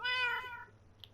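A cat meows once in the Minecraft video game, a short clear harmonic mew that fades within a second, followed by a faint click.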